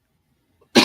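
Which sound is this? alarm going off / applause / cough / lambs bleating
cough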